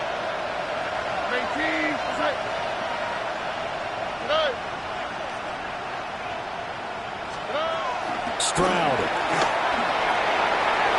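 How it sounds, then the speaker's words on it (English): Steady stadium crowd roar at an American football game, swelling slightly, with a commentator talking over it and a few sharp whistles or horn blasts near the end. "A big play here as the crowd noise rises"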